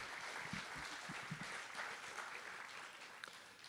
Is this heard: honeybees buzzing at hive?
no